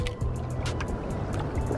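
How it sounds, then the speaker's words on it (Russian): Wind-driven waves wash and slap against the shore in a short, close burst of choppy splashing. "О, как ветер поднялся, аж волны приливают."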